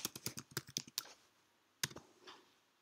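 Quick bursts of keystrokes on a computer keyboard, about ten rapid close clicks, then a pause and a single sharper keypress, near and fairly quiet.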